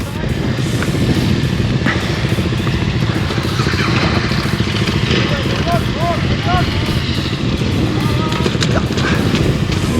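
Adventure motorcycle engine running steadily and loudly throughout at an off-road training site in the UAE, a continuous rumble with brief bird-like chirps and voices nearby over it.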